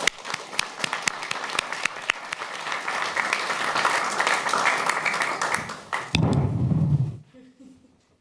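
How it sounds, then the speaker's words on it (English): Warm audience applause greets a pianist and a singer at a concert, loud dense clapping sustained for about six seconds before giving way to a brief low rumble and then fading out. "Give them a warm hand of applause."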